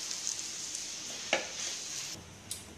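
A potato mixture for bread idli cooks in a pan with salt, a continuous low sizzle broken by a couple of sharp spoon scrapes and taps against the pan.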